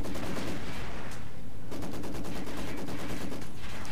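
Continuous machine gun fire in Company of Heroes 2, a loud dense rattle of rapid bursts with a brief lull near the middle, with no talking.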